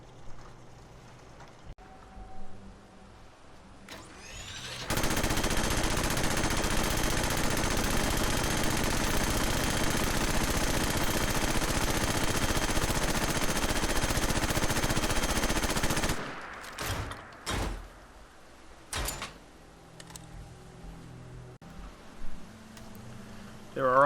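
A tri-barrel minigun fires one long, continuous, dense burst of rapid shots in the game Fallout 4, lasting about eleven seconds. Scattered quieter clicks and handling noises come before and after it.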